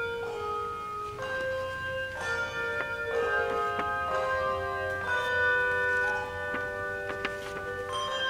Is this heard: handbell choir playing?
yes